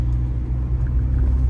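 A Honda SMX rolls along the road, its steady low rumble of engine and tires filling the cabin without a break, with no talking.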